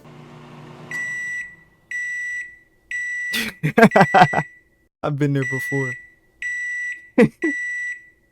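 A microwave oven beeps in a steady series of loud, evenly spaced electronic tones, roughly once a second, with a person talking briefly between some of the beeps.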